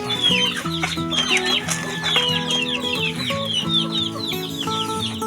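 Shamo chickens in a backyard at feeding time, a busy chorus of overlapping clucks and calls from several birds, close and steady throughout.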